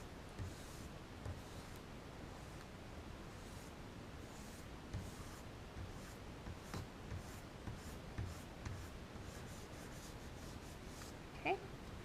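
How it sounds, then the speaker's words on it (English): Pastel strokes scratch and rub across paper in a steady, close, quiet stream of soft scraping with a few sharper taps, no talking over it. "holding my paper steady, drawing in just what I see"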